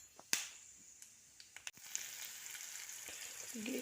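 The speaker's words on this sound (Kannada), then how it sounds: "ಇದಕ್ಕೆ ಸಾಸಿವೆ ಜೀರಿಗೆ ಹಾಕಿ ಸ್ವಲ್ಪ ಕರಿಬೇವು ಒಂದೆರಡು ಶೇಂಗಾ ಹಾಕಿ ನೋಡ್ರಿ" Mustard seeds, cumin, curry leaves and a few peanuts frying in hot oil for lemon rice, giving a quiet steady sizzle broken by scattered sharp pops and crackles, close by with no voices.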